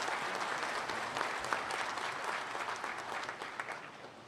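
A graduation audience gives a steady round of applause, dense clapping from a large crowd sustained evenly throughout with no talk over it.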